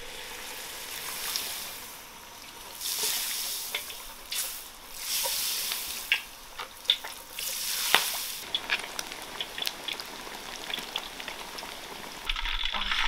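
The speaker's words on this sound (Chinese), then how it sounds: "炸鱼了，金老师小心点哦" Whole fish deep-frying in hot oil for sweet and sour fish, crackling and sizzling in bursts with sharp pops and spits, a close, busy fry that rises and falls.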